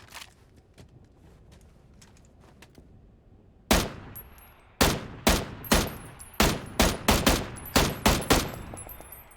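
Video game gunfire rings out in a rapid burst of about ten loud, sharp shots in uneven rhythm, following several seconds of quiet background footsteps and movement.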